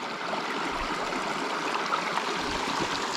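A very small creek, home to brown trout, flows with a steady, close rushing and trickling of water. The sound is even and unbroken with no voices.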